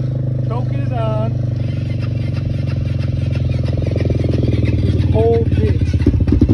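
A cold Honda 400EX ATV engine with the choke on idles roughly and revs unevenly up close, a loud throbbing rumble with a brief squeaky whine and voices talking over it.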